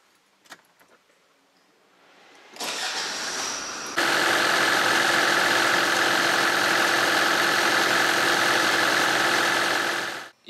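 A 2006 Hyundai Terracan diesel engine cranks and catches, then settles into a loud, rough, uneven idle caused by uncoded fuel injectors, running close and steady with no voices.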